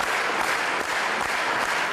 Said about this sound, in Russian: Полный зал и продолжительные аплодисменты.